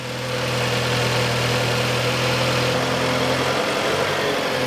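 A VW PD130 diesel engine in a VW Rabbit pickup idles steadily up close, a low droning rumble with constant vibration and no speech over it.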